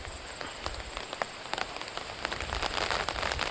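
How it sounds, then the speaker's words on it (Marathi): Heavy monsoon rain pours over flooded rice paddy fields in Devgad, a dense steady hiss of drops that builds slightly louder toward the end. "हे बघा पाऊस बघा कितपत येलो असा, जोरदार पाऊस हा."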